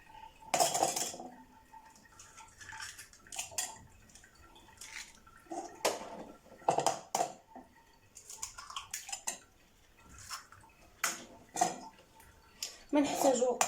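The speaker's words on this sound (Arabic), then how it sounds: "بدينا نغسلو البيض ديالنا مزيان." Eggs being washed in a bowl while baking a chocolate cake: intermittent clinks and knocks of shells against the bowl mixed with splashing water, bursts spaced irregularly and close by, with a voice in the background.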